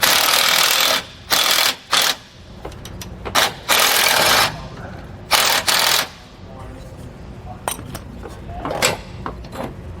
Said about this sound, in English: You're going to use a 9/16 socket and wrench to do so.